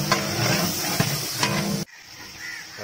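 Ginger garlic paste hits a hot pan with browned onions for mutton kurma, giving a loud, close hissing sizzle that runs steadily for nearly two seconds before cutting to a faint, quiet background.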